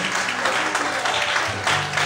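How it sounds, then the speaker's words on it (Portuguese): A church congregation claps for the Lord during a service, a loud, dense wash of applause from many hands that runs steadily for a couple of seconds with no distinct speech. "Você pode aplaudir o Senhor?"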